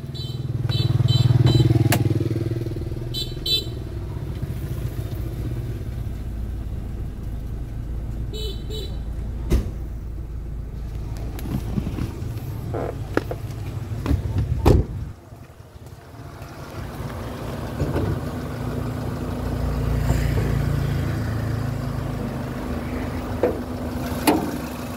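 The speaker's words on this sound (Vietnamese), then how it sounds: "Đây máy nổ rất là êm mọi người nhé, không có hiện tượng rung giật gì cả này." A 2009 Kia Morning Sport automatic idles steadily nearby, its engine a smooth, even hum with a brief dip partway through and no roughness. The drone continues throughout.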